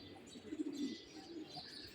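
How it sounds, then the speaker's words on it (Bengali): Small pigeons coo softly among flower gardens in a Sikkim hill town, a faint low murmur over quiet outdoor ambience. "ছোট ছোট কবুতর"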